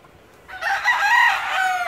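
A seven-month-old rooster kept for fighting lets out one loud, close crow that rises and holds for over a second after a quiet start.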